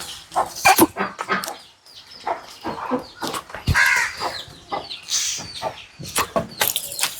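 A hen with her chicks clucking and cheeping close by, repeated short calls scattered unevenly through the clip with no talking.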